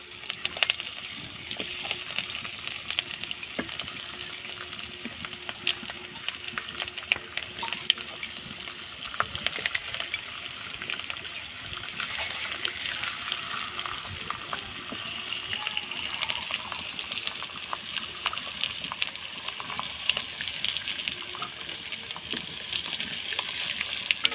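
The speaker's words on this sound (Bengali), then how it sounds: "কড়াইয়ের তেলটা গরম হয়ে গেছে ঠিক এই পর্যায়ে এইভাবে দিয়ে দেবো এক এক করে সবগুলি দিয়ে দেব" Stuffed karela pieces frying in hot oil in a wok, a continuous bubbling hiss held at an even level for a long stretch, with faint clicks as pieces settle.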